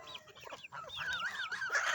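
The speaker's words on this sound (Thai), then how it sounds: "แล้วก็จะมีพวกไก่วัยรุ่น ไก่วัยรุ่นอยู่สามตัว" Young Betong chickens clucking and squawking close by, a busy run of rising and falling calls with no talking.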